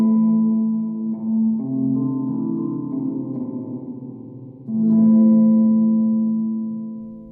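An electric guitar plays through a Bulinski Analog Spring Driver spring reverb pedal: sustained notes ring out, bloom and slowly decay, with a fresh note struck partway through, clean and close with nothing else audible.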